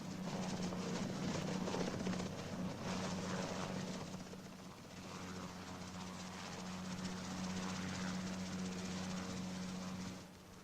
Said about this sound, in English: there is a regular helicopter service to the mainland